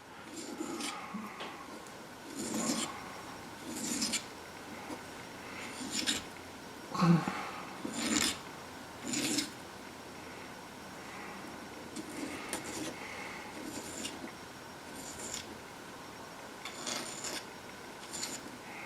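Quiet, irregular rasping strokes of a hand saw cutting, in short bursts with brief pauses between.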